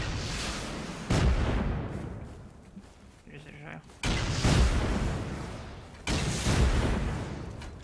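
Rocket explosions boom during a base raid in the video game Rust, three heavy blasts spaced a couple of seconds apart, each a loud thud with a rumbling tail, while players talk between them.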